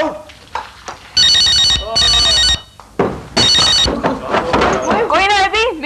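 A telephone rings in short bursts indoors, with people talking in Hindi-Urdu between and after the rings.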